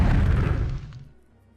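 A Horse Explosion spell being cast in the video game Daggerfall, heard as a single loud booming blast that rumbles and fades away over about a second, with no talking.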